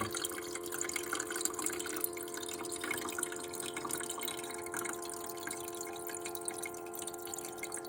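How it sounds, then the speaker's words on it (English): A countertop ice maker's pump fills its bucket with water, a steady close trickle with dripping and a constant low mechanical hum beneath it. "And now it's starting to fill the bucket up"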